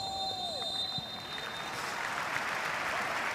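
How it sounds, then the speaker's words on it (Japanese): Stadium crowd applause at Ajinomoto Stadium during an FC Tokyo J1 League match against Sanfrecce Hiroshima, a steady broad wash of clapping and crowd noise at moderate distance, with brief whistle-like tones early on. "大きな拍手が起こりました。"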